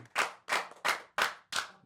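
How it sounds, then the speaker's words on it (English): Five loud, deliberate hand claps land close by in a slow, even rhythm, each sharp crack followed by a brief gap, with no talking between them. "clap it up for Scooby-Doo"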